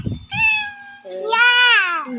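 A cat gives two loud, close meows, the second longer with a rising and falling pitch. A short soft thump comes just before them.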